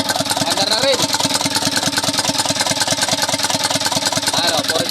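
A diesel Isuzu Elf truck with a 4HL1 engine runs steadily after a replacement ECU is fitted, its rhythmic combustion pulses loud and close for the whole stretch, with a brief bit of speech near the start.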